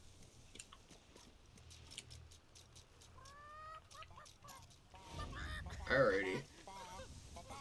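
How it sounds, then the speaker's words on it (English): Chickens cluck and squawk in a medieval village in the video game Fable 3, a few short calls close by and a louder flurry near the end, while someone talks over them. "Take me to the chickens."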